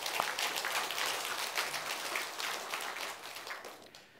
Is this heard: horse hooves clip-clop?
no